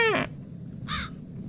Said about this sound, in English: Hey, crow.